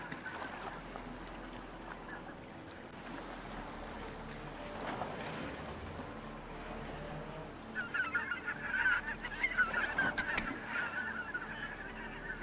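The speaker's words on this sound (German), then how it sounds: "die Seemöwe, die nervt ein bisschen. Das Geräusch." Seagull calls ring out in a lighthouse scene of the PC game Demon Hunter, sharp cries rising over a steady windy, watery ambience, growing busier toward the end.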